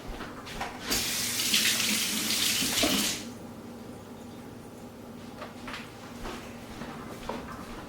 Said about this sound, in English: Now, for the tomatoes, either just Roma tomatoes, actually need to rinse them off real quick.